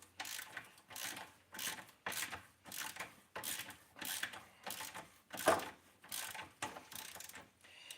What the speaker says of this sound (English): So we're going to go ahead and snug down these 5/8 bolts over here.